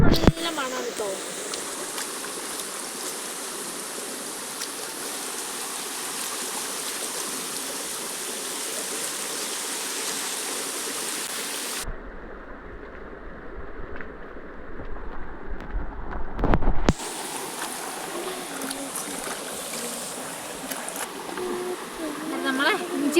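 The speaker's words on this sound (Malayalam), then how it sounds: "ഞാനിപ്പോൾ ഇങ്ങനെ വെള്ളത്തിൽ നിന്ന് കഴുകിയെടുക്കുന്നതേ ഉള്ളൂ കേട്ടോ" Freshly dug ginger is rinsed by hand in running water outdoors, a loud steady rushing flow with splashing throughout, briefly muffled midway before returning.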